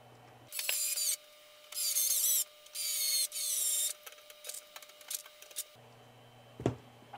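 Bursts of a powered screwdriver whir in several separate runs as fan screws are tightened onto a water cooler, loud and close, followed by softer handling clicks and a sharp knock.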